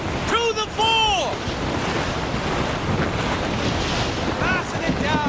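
Wind gusts and rolling ocean surf around a sailing ship in Assassin's Creed Rogue, a loud, steady broadband roar throughout, with brief shouted voices near the start and end.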